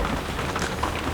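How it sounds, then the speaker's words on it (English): Rain falls steadily on a bus, a dense, even hiss of drops drumming on the roof with no breaks and no voices. "Wow, the rain's picked up."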